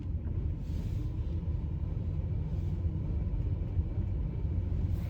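A steady low rumble fills the interior of a moving car with a malfunctioning air conditioning system, a continuous droning hum without clear breaks and no talking.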